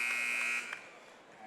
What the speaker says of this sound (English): Chris McKnight, tray ball up and no good at the buzzer.